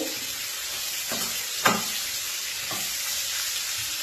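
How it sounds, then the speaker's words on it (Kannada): Food frying in a pan, with a soft steady sizzle and a few stirring scrapes and knocks, one sharper clack near the middle, close and moderately quiet. "ಈಗ 5 ನಿಮಿಷ ಫ್ರೈ ಮಾಡಿದ್ದೀನಿ"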